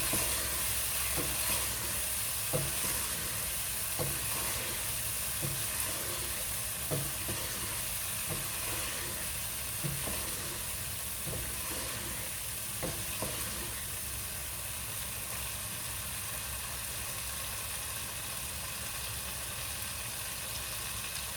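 Chicken curry with spinach on the way fries in a pan after dried fenugreek is added, a steady close sizzle with periodic stirring scrapes and taps that settle into an even hiss.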